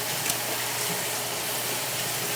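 Water running steadily over a cutting board being washed in a kitchen while cooking pork carnitas, a continuous close gushing wash with no talk.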